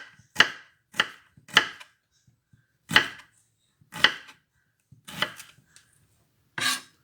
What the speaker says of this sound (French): Je couche mon oignon pour finir.